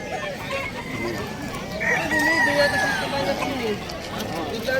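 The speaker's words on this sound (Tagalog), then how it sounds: "nandito tayo sa mga manok" Chickens and roosters at a Bulacan pet market, with crowing and clucking calls rising over a busy background hum of market babble, the fowl fairly close and continuous.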